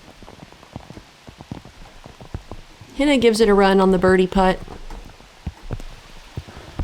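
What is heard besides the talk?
heavy rain falling during outdoor disc golf round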